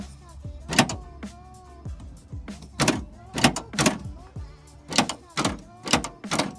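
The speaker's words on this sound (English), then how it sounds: "as you can see, the door lock does function now." Repeated power door lock actuations on a Ford Mustang fox body, a series of sharp mechanical thunks and whirs in quick bursts, close and fairly loud, with pauses between.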